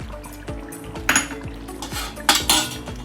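A spoon clanks and scrapes against a metal pot while chicken korma with makhana, cashews and almonds is mixed, with several sharp knocks and a rhythmic scraping, close and fairly loud.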